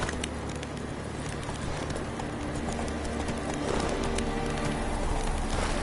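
Galloping horse hooves in a PS4 video game, a steady fast clip-clop running continuously under a busy layer of game ambience and music.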